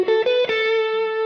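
A slow blues lick on distorted electric guitar, a few picked notes settling into one long sustained, singing tone that rings out alone and fairly loud.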